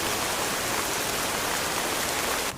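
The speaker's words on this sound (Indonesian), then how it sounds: "Ini hujan." Heavy rain falls in a loud, unbroken rush, a close, dense wash of water hitting surfaces with no speech over it.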